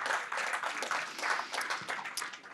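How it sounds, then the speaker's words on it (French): An audience applauds a regional councillor at a Montpellier ice sports federation event, a faint, steady patter of many hands clapping with uneven swells that continue throughout. "On l'applaudit bien fort."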